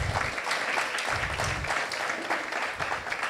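Audience applause at a FIDAPA Rionero women's association cultural event on women of the Bible, honouring a reciter of Dante's verses; steady, dense clapping from a hall crowd held evenly throughout.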